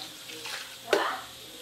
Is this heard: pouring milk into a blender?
yes